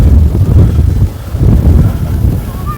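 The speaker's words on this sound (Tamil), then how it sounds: "செம சில்லுன்னு காற்று வருது" Cool wind gusts across a hilltop near Siruvani dam, buffeting the microphone with a loud, low rumble that rises and falls in uneven surges.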